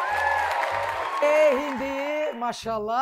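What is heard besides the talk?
studio audience applause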